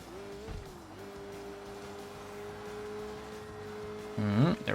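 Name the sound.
large car in traffic in the video game Sleeping Dogs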